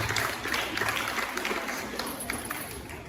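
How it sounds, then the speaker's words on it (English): An audience at a Gambian student association handover congress applauds, a dense patter of many hands clapping at moderate level that carries on steadily and thins slightly toward the end. "Can we please give him a round of applause?"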